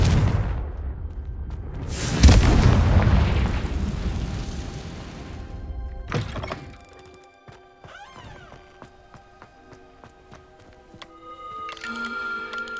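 Confringo fire spell cast in the Hogwarts Legacy video game on PS4 Pro, a loud booming explosive blast that rumbles and fades over several seconds into quieter chiming game ambience.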